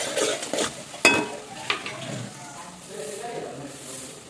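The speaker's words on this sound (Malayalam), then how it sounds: "ഇഞ്ചി ഇട്ടെടുത്തു. ഒന്ന് വഴറ്റുക." Ginger stirred and sautéed in hot oil while making pickle gives a soft, steady sizzle, with scraping stirs and a sharp clink of utensil against pan partway through.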